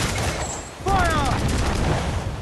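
Ship cannons in Assassin's Creed 4: Black Flag: a heavy, sustained volley of booming gunfire. A short lull is followed by a loud renewed burst, with a brief shouted voice over it.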